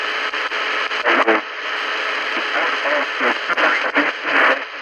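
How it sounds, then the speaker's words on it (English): Shortwave ham radio on the 40 meter band in lower sideband, heard on a retro clock radio: garbled, warbling voices drifting through steady hiss and static, continuous and fairly loud. "Lower sideband ham radio activity."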